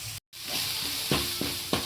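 Ginger garlic paste sautés on a low flame for a chicken dish, a soft continuous sizzle close by, broken by a brief cutout near the start and a few stirring bumps.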